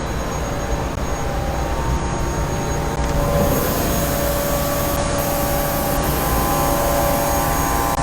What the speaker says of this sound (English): They're milling a baffle.